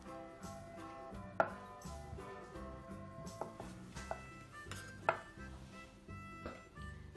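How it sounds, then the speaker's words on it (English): A knife chops a boiled egg on a cutting board for a Spanish campera salad, a series of quiet, uneven taps and knocks close by, with soft kitchen clatter and no talk. "And we chop the egg. You just can chop like this."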